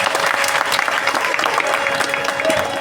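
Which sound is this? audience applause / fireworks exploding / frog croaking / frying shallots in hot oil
audience applause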